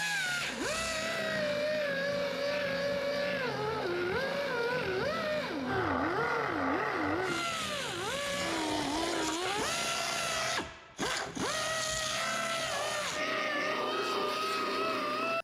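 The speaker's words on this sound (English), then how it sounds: "Once I get the back side cleaned up with the belt sander" A belt sander cleaning up the back side of a car bumper during a repair: a close, loud whining motor and abrasive grind that rises and falls in pitch as pressure changes, with a brief pause near the end.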